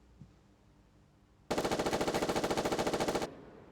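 An automatic sniper rifle with a scope fires in a video game: a rapid, even burst of about twenty loud shots lasting nearly two seconds, then it stops, with quiet background before and after.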